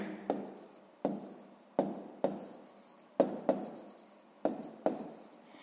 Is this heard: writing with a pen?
yes